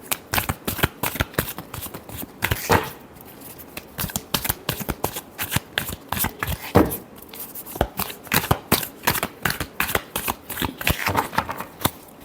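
Tarot cards are shuffled over and over in quick, crisp riffles and taps, close and continuous throughout.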